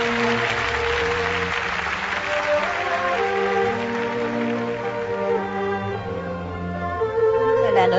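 Audience applause at the Tung Wah charity gala: steady clapping from a large crowd, mixed with tonal music and a voice in the background, holding at a fairly loud level and swelling slightly at the end.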